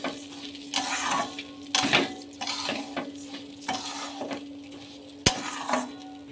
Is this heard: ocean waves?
no